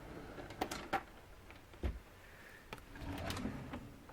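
A craft-room drawer full of tags and bags is handled, giving several short woody clacks and knocks followed by a soft sliding rustle, close and fairly quiet with no talking.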